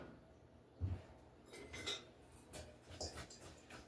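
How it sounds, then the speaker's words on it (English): Spices for a pulled pork rub are stirred together in a bowl, giving soft, scattered clinks and scraping taps of utensil against the bowl, faint and close. "all we're going to do is dump these into a bowl, mix them up."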